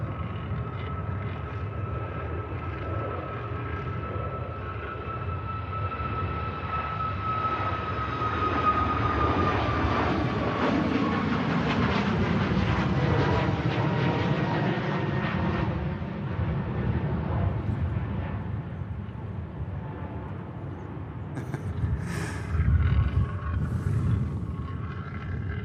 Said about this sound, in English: We got Ryanair, next aircraft out, following that Qatar arrival.